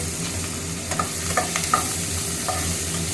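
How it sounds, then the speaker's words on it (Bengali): Chicken pieces get tossed in hot oil, a close, even sizzle punctuated by a few light clinks and scrapes as they are turned, with nobody speaking. "জাস্ট এগুলো আমি একটু টস করবো বেশি কিন্তু করবো না"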